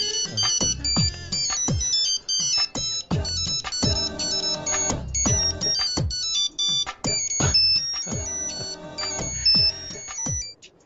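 A telephone ringtone plays loudly and continuously for about eleven seconds, a bright melodic electronic tune of short repeating notes in a steady beat, alone without speech.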